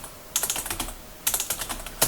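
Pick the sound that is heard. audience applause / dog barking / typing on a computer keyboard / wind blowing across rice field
typing on a computer keyboard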